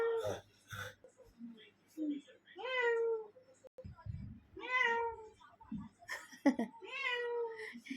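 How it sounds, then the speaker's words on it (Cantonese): A house cat meows several times in drawn-out, tonal calls, close and fairly clear, with short pauses between them and soft household voices and noises in between. "有貓啊"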